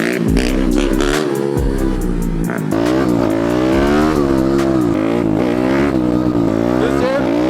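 A new motorcycle revs hard and climbs through the gears, its loud engine tone sweeping up in pitch over and over, with brief gaps between shifts near the start.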